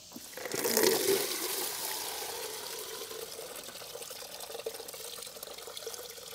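Washer fluid gushes from a removed line on a fourth-generation Toyota 4Runner's washer tank into a container below, a faint close splash that starts strongly and tapers into a steady trickle.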